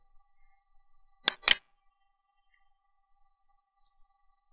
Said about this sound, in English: So you click on that.